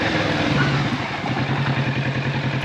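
A Kawasaki Z650 RS motorcycle engine runs loud and close while being ridden, a steady mid-pitched drone with slight throttle wavering throughout.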